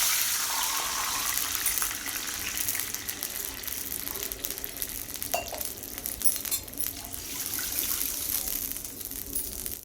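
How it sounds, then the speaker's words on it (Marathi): Two cups of water run and splash steadily into a metal pan, with a few faint clinks, continuing without pause and no talking. "आता त्यामध्ये मी इथं दोन कप पाणी घेते"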